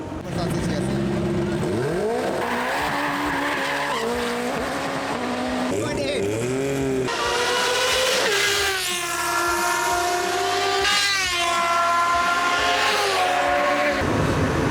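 Race car engines roar and rev loudly at a drag strip in Japan, pitch rising and falling as vehicles accelerate past, with a busy crowd murmur underneath throughout.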